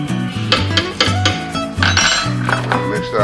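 A utensil knocks and scrapes against a bowl while cornstarch is mixed in for a stir fry, giving loud repeated clinks in an uneven rhythm, close up.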